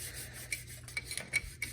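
Sandpaper worked by hand on a metal clock dial chapter ring gives faint, close rubbing and rasping strokes, a few soft scrapes spaced irregularly against a quiet low hum.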